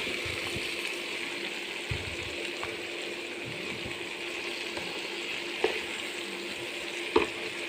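Vegetables and green chillies fry in a pan with a continuous, even sizzle. Occasional soft stirring knocks sound through it. The sound is close and moderate in volume, with no speech.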